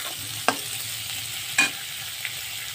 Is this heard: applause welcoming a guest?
no